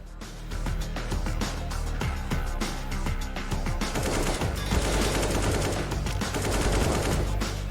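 AK rifle fire in Counter-Strike, rapid bursts of loud, dense automatic shots running almost continuously, layered with more gunfire and game effects, no clear voices.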